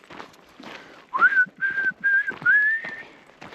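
A person whistling a short tune outdoors while camping by a glacial lake, a few clear melodic phrases close by over faint background sounds.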